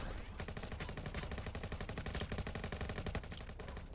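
Rapid automatic gunfire in a video game jewelry store heist battle, a dense, fast, steady stream of shots that stays loud and near the whole way through, with no talking.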